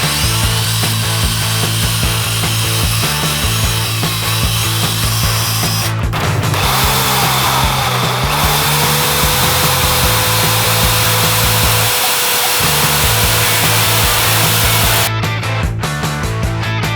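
A power drill drives Tapcon concrete screws through basement wall framing into concrete, a steady whirring drone running nearly throughout with brief dips and a couple of louder bursts near the end, close and loud with no talk.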